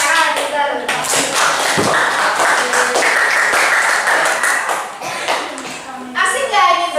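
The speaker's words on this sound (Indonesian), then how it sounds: "Tepuk tangan kita." Young children in a coding lesson clap their hands together in scattered, uneven bursts, sharp close slaps mixed with a teacher's voice and children talking around them.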